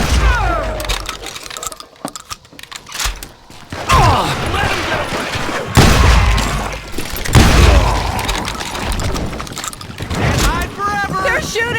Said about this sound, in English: They're shooting in the street!